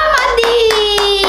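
Hands clap a few times in quick, loud bursts for mom at home, over a sustained tone and a voice.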